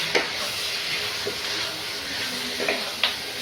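Goat meat sizzling in a hot pan as it is stirred, a steady frying hiss with a few light scraping knocks of the utensil against the pan.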